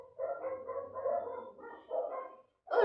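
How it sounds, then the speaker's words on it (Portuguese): Dogs bark in a quick run of muffled, faint yips and woofs, fairly distant and repeating for a few seconds, with no talking over them. "os cachorros não param"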